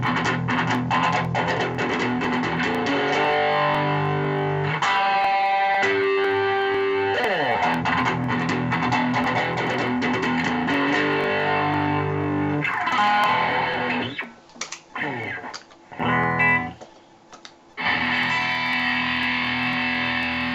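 Electric guitar played through a distortion channel set to a hot rod tone with a Phase 90 phaser pedal engaged, loud sustained chords and riffs with a sweeping swirl, brief gaps near the end before playing resumes.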